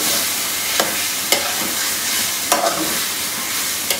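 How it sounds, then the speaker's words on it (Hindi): Chicken frying in a pan with black pepper and crushed chili, a steady loud sizzle broken by a few brief scraping stirs, with no voices. "अब हम इसको अच्छे तरीके से भूनेंगे।"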